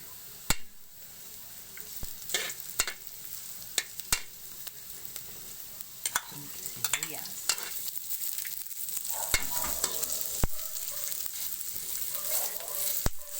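Onions fry in oil in a pan, giving a steady sizzle close up, broken by sharp clicks and scraping taps as they are stirred, with no voices.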